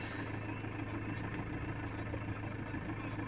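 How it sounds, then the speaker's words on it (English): A Ford Transit Mk7 engine idles roughly with a vacuum fault, a steady low hum and rumble close by, continuous with slight unevenness. "That's why it's idling a little bit rough and it's taking a little bit more time to start."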